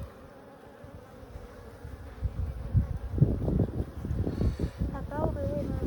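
Honey bees swarm around an open hive during an inspection on a hot day as frames are lifted out. A dense, droning buzz grows busier and louder midway, with individual bees whining close by and faint voices underneath.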